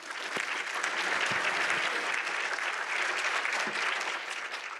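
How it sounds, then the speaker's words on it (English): Audience applause at an advocacy awards program, a steady wash of clapping from a crowd that holds even and fairly distant throughout. "Maybe another round of applause."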